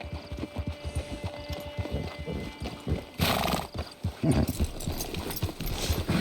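Horse hooves gallop in the video game Red Dead Redemption 2, a steady near clip-clop rhythm with occasional whinnies over a music and ambient game soundtrack.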